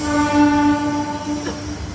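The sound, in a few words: train arriving at Sabarmati railway station, horn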